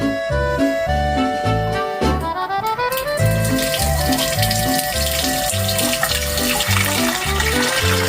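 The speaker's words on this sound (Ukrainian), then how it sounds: "А тепер виключай водичку, виключай водичку." Water from a kitchen tap comes on partway through and runs in a steady rushing stream beneath loud background music.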